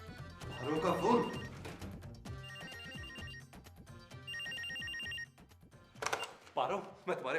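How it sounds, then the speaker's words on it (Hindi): A telephone rings with a bright electronic ringtone in repeated bursts over background music in a TV drama scene, then people begin talking. "पारो का फोन।"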